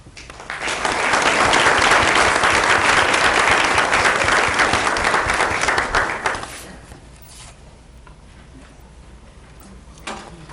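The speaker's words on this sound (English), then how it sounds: "Please stand and a round of applause for her parents." An audience at a school board meeting breaks into loud, sustained applause that swells quickly, holds for several seconds, then fades to a quiet room with a few stray sounds.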